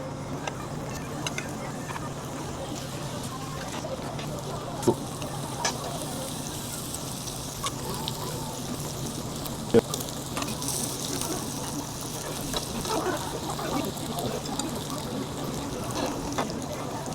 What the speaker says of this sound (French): je vais vous mettre en direction de la grille. Je vais vous laisser admirer la cuisson.